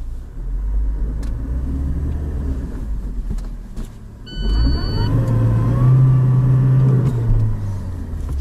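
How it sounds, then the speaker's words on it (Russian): A Lada Niva engine revs hard while its wheels spin without grip, a loud close droning roar that drops briefly, then rises again into a higher, straining whine. "колеса крутятся, мы не едем"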